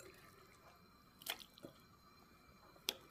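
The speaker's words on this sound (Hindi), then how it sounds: "ये मैं इसमें गोश्त डाल रहा हूँ" Pieces of meat are dropped into a pot of water, giving a few faint, wet plops and drips spaced out over several seconds in a quiet kitchen, with no talking.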